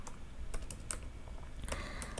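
Someone types an SQL query on a computer keyboard, a few scattered soft key clicks over a low hum, with a brief cluster of taps toward the end.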